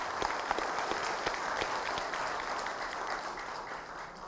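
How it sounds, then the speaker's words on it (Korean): A crowd at a political campaign event in Jinju applauds to welcome a speaker, steady massed clapping with a few sharper individual claps, fairly distant and consistent throughout. "여러분 큰 박수로 환영해 주십시오"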